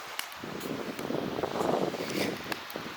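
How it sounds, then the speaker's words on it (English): Strong wind gusting across an open lakeside campsite, a steady broad rush that swells and eases over a few seconds, with faint scattered rustling through it. "So the wind keeps getting stronger."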